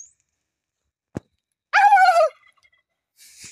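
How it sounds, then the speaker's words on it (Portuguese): A turkey in a yard where cashews are being picked gives one loud, close gobble, a quick warbling burst set against near silence, with a faint knock just before it. "Ô, peru!"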